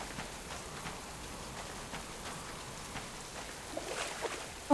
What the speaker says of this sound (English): because of all this rain we've had today